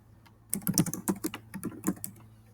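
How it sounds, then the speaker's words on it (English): Keys on a computer keyboard clatter in a quick, uneven burst of taps, close and moderately loud, after a short quiet start. "And now I can type here."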